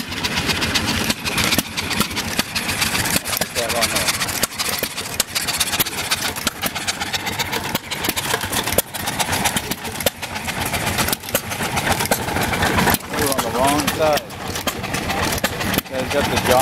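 Several John Deere one-cylinder hit-and-miss engines run together in a steady, dense mechanical chugging, with irregular firing beats and a broad, continuous rumble, while people talk nearby.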